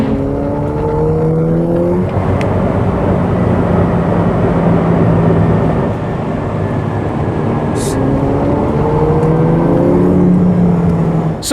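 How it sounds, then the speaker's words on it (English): A Ferrari F8 Tributo supercar accelerates hard in a straight line, its engine a loud sustained roar whose pitch sweeps upward through repeated gear changes, heard close from on board with rushing wind noise. "Let's see how the Ferrari accelerates in a straight line."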